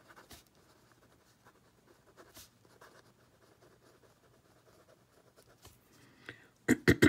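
A pen scratches softly across a journal page in short, faint strokes close by, followed by a louder burst of rustling near the end.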